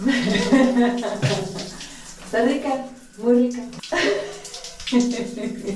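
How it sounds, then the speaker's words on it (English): Shower water running steadily in a bathroom, a continuous hiss and splash under someone talking in Spanish. "I hear the water running and I'm thinking like, who the hell's taking a shower without hot water?"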